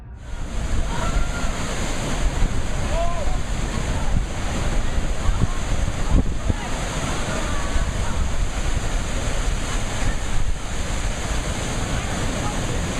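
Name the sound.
ocean waves crashing on shore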